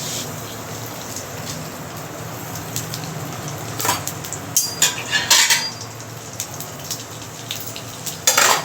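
Fennel and cumin tempering in hot oil for a lentil dish, a steady soft crackling sizzle close by, broken by a few clinks of a spoon against the pan, with no talk.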